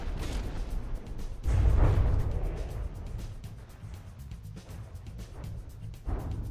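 Shells striking turrets in the naval combat game From the Depths, with a dull booming impact and rumbling explosions over a low battle din, with a rapid patter of smaller hits and another thud near the end.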